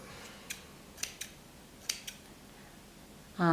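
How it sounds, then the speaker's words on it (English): Scissors snipping the loose yarn ends of a pom pom bunny, with several faint, crisp, close snips spaced irregularly over a quiet background, followed by a louder rustle at the end. "cut my ends so they're loose like that."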